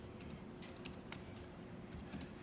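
Fingers type steadily on a computer keyboard during a live demonstration at a security conference, giving a stream of quick, light clicks over a faint room hiss, with no one speaking.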